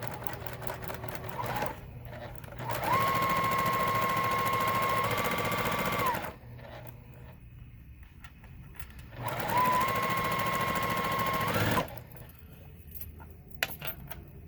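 A sewing machine chain-pieces quilt blocks with a quarter-inch seam, stitching in two loud sustained runs of about three seconds each, separated by quieter pauses with faint handling noise.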